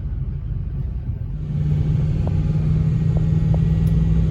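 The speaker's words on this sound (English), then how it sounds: "the truck has been running great with this stuff" A Ford Powerstroke diesel truck running on renewable diesel, heard as a steady low engine rumble with a constant hum that grows louder and fuller partway through, no voices.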